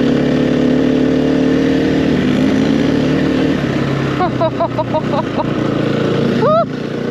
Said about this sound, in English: our exhaust sounds so good